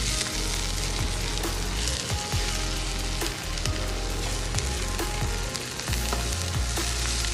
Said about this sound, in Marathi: आपण हे छान परतून घेऊया